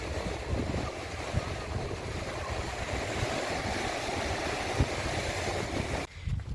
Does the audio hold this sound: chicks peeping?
no